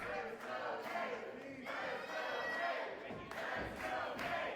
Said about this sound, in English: The crowd is behind Nate right now